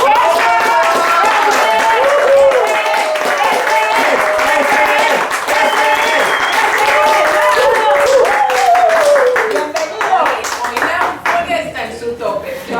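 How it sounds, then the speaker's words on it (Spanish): Audience applause welcomes Joan Sebastián Ocampo to a talk session, a steady wash of clapping lasting about twelve seconds with voices and cheering mixed in throughout, thinning toward the end. "Recibamos con un aplauso a Joan Sebastián"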